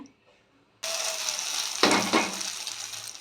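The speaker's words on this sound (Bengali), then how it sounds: "তেল গরম করে মিশ্রণটা দিয়ে দিলাম" Frothy egg and potato batter hits hot oil in a wok. After a near-silent start, a loud, sudden sizzle bursts out and keeps hissing, then surges louder again partway through.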